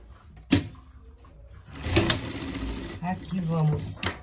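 A sewing machine runs in short stitching bursts while sewing a pet dog overall (jardineira), with speech heard over the mechanical whir and clatter.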